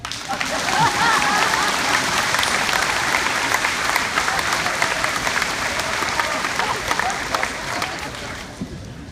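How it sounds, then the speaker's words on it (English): A graduation audience applauding at a high school ceremony, a dense sustained wash of many hands clapping that fills the space for about nine seconds before easing slightly, with some voices mixed in. "this is the part where you all started clapping."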